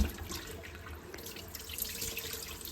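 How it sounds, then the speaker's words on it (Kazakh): Water sloshing and splashing as soaked corn grains are rinsed by hand in a bowl, close and continuous, with light dripping. "1 сағаттан кейін таза сумен 2-3 қайтара жуып алатын боламыз"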